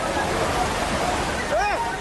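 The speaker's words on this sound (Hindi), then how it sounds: "गुजरात के कच्छ शहर में ऐसा सैलाब आया कि एक के बाद एक कई दोपहिया वाहनों को बहा ले गया" A flood torrent rushes through a street in Kutch, Gujarat, sweeping away motorbikes; a loud, continuous roar of surging water with a brief voice breaking through near the end.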